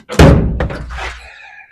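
A single heavy car door slams shut close by, one sharp thud followed by a short rattling decay, alone without talk.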